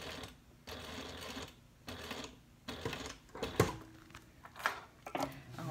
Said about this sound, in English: I'm gonna sew twice,